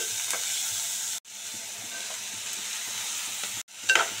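Small bitter gourds fry in a hot pan with salt and green chillies, giving a steady, close sizzle and hiss with light stirring scrapes. The sizzle breaks off briefly twice and then comes back.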